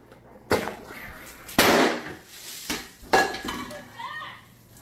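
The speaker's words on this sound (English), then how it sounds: "Firecracker." A firecracker set off inside a house, several sharp bangs and crackling bursts over about five seconds, loud and close, with a faint voice in the background.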